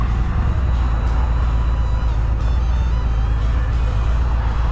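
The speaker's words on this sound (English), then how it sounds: "how nice of you to finally turn green when all the traffic's coming" Continuous road traffic at an intersection, a dense low rumble of cars and heavier vehicles passing nearby with faint hiss and occasional brief tonal swells, steady throughout with no talking.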